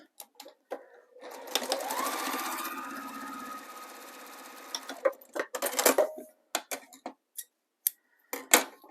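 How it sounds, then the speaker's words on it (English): A sewing machine stitching along the edge of a fabric zipper pouch runs in one steady whirring pass of about four seconds, then gives several short stop-start bursts and clicks, close and clear with no talk. "I'm just going to stitch close to the edge to close that up"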